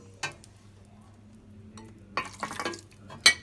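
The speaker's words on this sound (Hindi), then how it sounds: "अब थोड़ी सी इसकी भुनाई होगी।" Spiced fish masala, with ground cloves and black cardamom, roasts in a pan with a soft background sizzle and occasional sharp scrapes and clinks of a spoon stirring against the metal.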